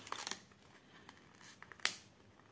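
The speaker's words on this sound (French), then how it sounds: "je vais enlever l'agrafe" Removing a staple from a stamped cross-stitch kit: small crinkly scrapes and rustles of fabric and paper, then a sharp metallic click as the staple pops free, faint and close with no talking.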